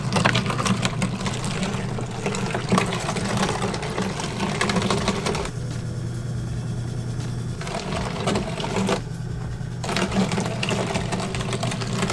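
Electric grinder machine grinding bones into tegu food, a loud continuous mechanical whir with a rough, churning texture that briefly eases and then resumes.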